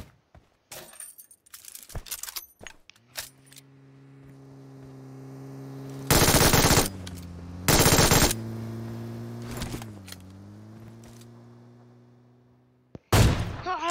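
Gunfire in PUBG Mobile: a few sharp shots and two loud sustained bursts over a steady low electronic hum, with scattered clicks in between.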